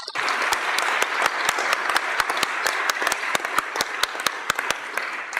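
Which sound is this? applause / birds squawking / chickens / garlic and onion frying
applause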